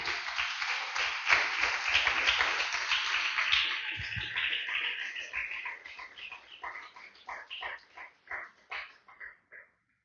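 Church congregation at a Spanish-language service breaking into applause, a dense burst of clapping that gradually loosens into scattered, uneven claps before fading out.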